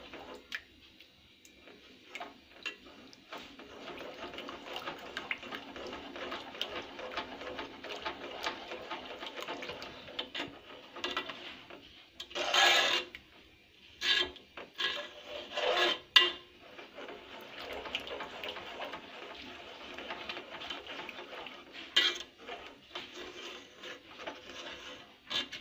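A zunka mixture of gram flour is stirred in a pan to break up the lumps, giving faint, intermittent scraping and rubbing strokes that come in irregular bursts.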